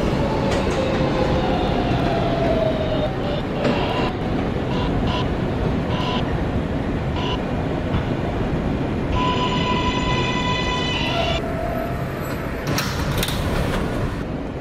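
Inside a New York subway local train running between stations, a loud continuous rumble of wheels and car noise with rattles, whining tones and brief squeals as it rolls along, no talk.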